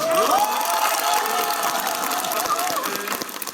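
Applause and cheering from a large audience at a Guro-eul district party event in Sindorim, Seoul, steady and full for a few seconds with voices mixed into the crowd noise.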